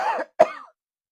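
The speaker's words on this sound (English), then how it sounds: "I'm about to cough" One person coughs twice in quick succession, close and loud, the second burst harsher, followed by silence.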